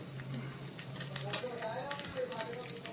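Chilies, mustard seeds and cumin crackle in hot oil in a home kitchen, a steady close sizzle with scattered small pops and one sharp spit, alone without talk.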